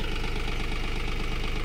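A Mahindra Oja 2130 30 hp tractor runs in a sugarcane field during intercultivation, its engine a steady, close, rhythmic diesel throb with an even pulsing knock and no voices.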